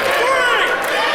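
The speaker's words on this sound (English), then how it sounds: "Listen to this crowd." A wrestling crowd at an elite homecoming show roars and cheers in a steady wall of noise, loud and continuous, with commentary voices mixed into the din.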